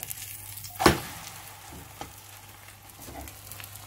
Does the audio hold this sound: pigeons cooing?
no